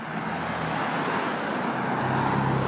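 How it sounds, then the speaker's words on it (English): Traffic noise from cars driving around nearby, a steady broadband roadway rumble that stays continuous and fairly loud throughout, with no voices. "there's lots of cars around, buzzing around"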